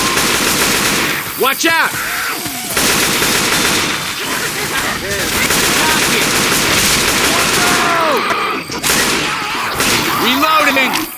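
Left 4 Dead 2 gunfire in a swamp level, loud, dense rapid bursts of automatic shots nearly throughout, mixed with game character shouts, including one brief spoken warning.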